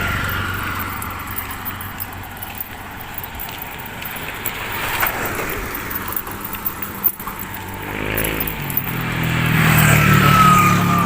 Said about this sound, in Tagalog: Mga tricycle, mga motor.